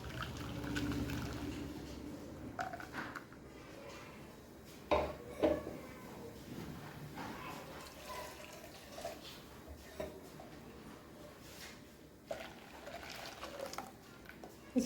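Ground spicy pani puri water is poured from a grinder jar into a cooking pot, making a gurgling splashy pour near the mic with intermittent metal clinks and scraping, then quieter handling.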